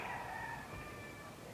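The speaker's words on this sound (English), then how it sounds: "This is what the chickens are doing." A rooster crows once in a drawn-out call, fairly faint and distant over a steady outdoor background hum in a summer garden.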